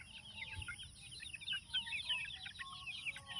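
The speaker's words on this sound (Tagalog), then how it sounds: "Magpakain ng manok." Many chickens cluck and chatter at once while being fed, a steady busy flock sound at moderate distance with low rumbling background noise.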